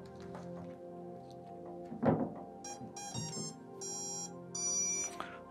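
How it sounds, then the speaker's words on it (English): A Blue Robotics underwater thruster powers up on the bench with a quick series of bright electronic startup beeps and tones, rising and stepping in pitch, following a single thunk. No voices are heard. "That was the sound of a thruster initializing."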